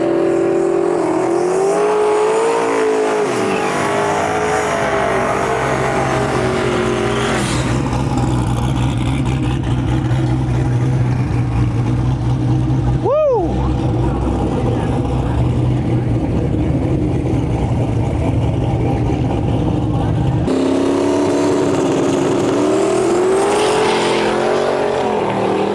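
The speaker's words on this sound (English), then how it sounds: "We got Kyle from Boosted Lifestyle pulling up right now with this beautiful Mustang" A Mustang drag car rolls up at a big drag-and-drive event, its engine rumbling loud and close with revving swells, heavy crowd and ambient noise around it and voices mixed in.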